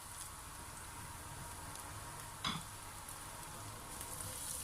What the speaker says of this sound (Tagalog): so sa parehong kawali, igigisa muna natin ang ating sibuyas